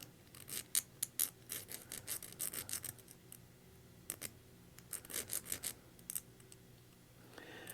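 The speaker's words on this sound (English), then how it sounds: "I think I'll try to file it a little bit." Hand file rasping back and forth on a small metal part of an old lock cylinder during a repair, giving irregular bursts of short scraping strokes close by, with brief pauses between groups.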